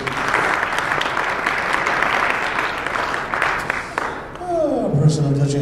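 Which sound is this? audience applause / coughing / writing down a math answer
audience applause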